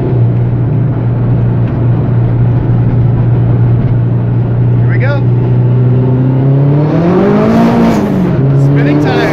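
Nissan Silvia race car roaring loud and close under hard acceleration, a steady engine drone climbing sharply in pitch near the end with tire squeal, while people talk over it from inside the cabin.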